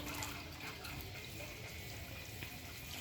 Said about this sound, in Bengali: এবার আমরা গাছটিতে একটু জল দিয়ে দেবো